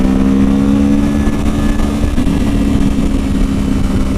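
A motorcycle engine revs hard as the rider downshifts and accelerates, a loud, continuous, steady roar with a strong low hum that holds throughout, close by and with no voices over it.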